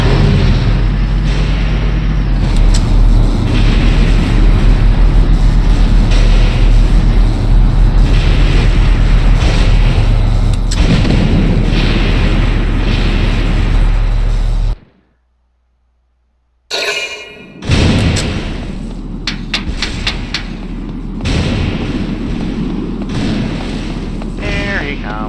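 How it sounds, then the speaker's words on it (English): Mortar explosions and battlefield rumble in the video game Valkyria Chronicles, a loud continuous booming roar that cuts out abruptly into silence before resuming. "Yes, you can dodge mortars."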